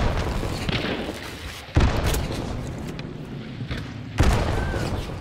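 Mortar shells exploding in Hunt: Showdown: two heavy booms a couple of seconds apart, each a sharp onset followed by a long rumbling decay over steady outdoor ambience.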